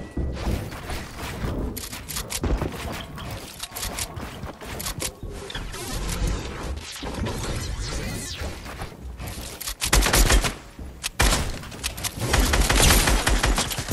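Rapid bursts of gunfire in Fortnite, sharp loud volleys with mechanical clicks and clatter, building to dense firing toward the end.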